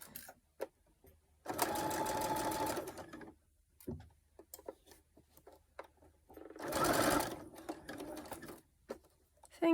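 Sewing machine stitching knickers, running in two sustained bursts with a pause between, close and fairly loud, with small handling clicks and rustles in the gaps.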